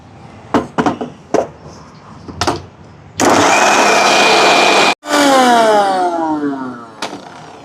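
Electric mixer grinding soaked dates into a paste, loud steady whir in two bursts with a brief stop between, with the motor pitch rising as it spins up; several sharp knocks come before it.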